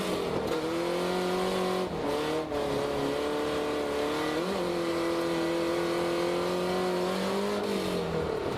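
A drift car on its first qualifying run at a drift competition: a loud, sustained engine note held high and wavering through the whole stretch, with brief dips and rises as the throttle shifts, close and alone without talk.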